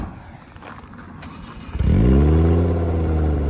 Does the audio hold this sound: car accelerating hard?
yes